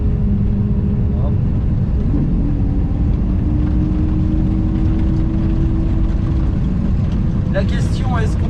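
A Lamborghini Aventador drives with a loud, steady low engine drone, heard from inside the car, with a faint rising tone and a few brief clicks near the end.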